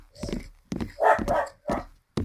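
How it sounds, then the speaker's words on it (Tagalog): A dog barks in the Roblox horror game The Morgue Shift, several close, sharp barks in separate bursts with short gaps between them. "Ingay naman ang aso na yun."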